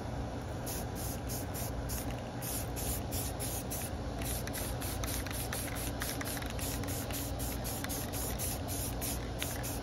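Flat black spray paint hisses from an aerosol can onto plastic parts in a long, steady close-up spray, with faint rhythmic pulsing and no voices.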